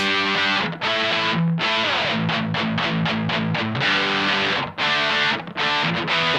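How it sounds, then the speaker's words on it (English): Tight, crunchy high-gain electric guitar through a Mad Professor One distortion pedal, a loud continuous run of chugging palm-muted notes and ringing chords with quick staccato stabs in the middle, no talking. "Getting pretty tight and crunchy there."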